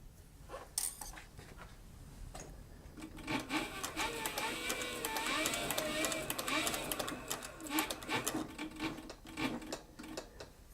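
Leather being stitched on a Cowboy CB 4500 sewing machine, a steady mechanical clatter running for several seconds mixed with rubbing and handling noise, fairly close, with a person speaking around it.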